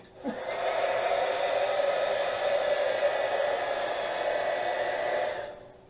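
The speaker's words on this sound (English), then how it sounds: "What I usually do is I take my heat gun and I kind of dry it quicker this way" A steady, loud electric heat gun roars for about five seconds with a breathy hiss, starting abruptly and cutting off at the end.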